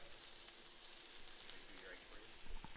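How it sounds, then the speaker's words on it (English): Onions saute in bacon fat and butter for keto fried rice, a soft steady sizzle with faint crackles, fairly quiet and close, with no voices over it. "now we're going to saute these onions and get them all translucent"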